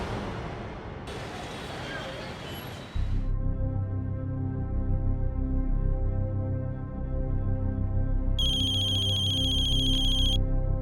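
A phone rings during a call in a crime drama, an electronic ringtone chiming in a repeating tonal pattern over a low background score, with a brief higher beeping tone near the end.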